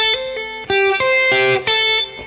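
A distorted electric guitar plays a quick pentatonic blues run down the scale, several separate sustained notes picked in succession, loud and close with no voice.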